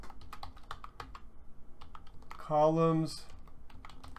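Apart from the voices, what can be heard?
computer keyboard typing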